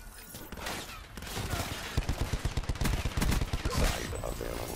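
Call of Duty Black Ops 4 Safeguard match gunfire, with rapid automatic bursts of shots crackling close and loud in a steady rhythm after a quieter opening.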